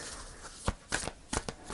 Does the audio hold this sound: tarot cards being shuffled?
yes